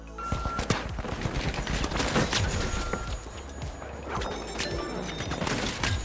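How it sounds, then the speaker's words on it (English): Gunfire in the video game The Finals during a ranked match, bursts of rapid shots and sharp cracks over a dense, busy game soundscape, fairly loud and continuous. "he's here and he's shooting."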